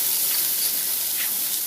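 Turmeric and coriander powder sizzle in a pan over a lowered flame, a loud, steady, hissing crackle that continues without a break.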